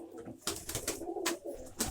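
Pigeons cooing softly nearby in a loft, low throaty calls repeating, with light rustling and flapping in the background.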